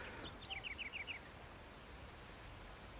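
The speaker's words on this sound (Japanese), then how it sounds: "なんか鳥のさえずりしか聞こえんな" Birdsong plays in a mahjong video game: a quick run of about six thin, high chirps early on, faint over a quiet, hissy background with no speech.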